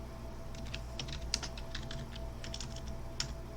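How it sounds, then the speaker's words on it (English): Quick, light clicks from typing on a new computer keyboard, an irregular patter of keystrokes heard close up over a low steady hum, with no talking. "I'm really bad at typing,"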